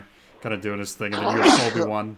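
A single short, sharp sneeze bursts out partway through continuous conversational talk during a podcast, partly masked by the voice.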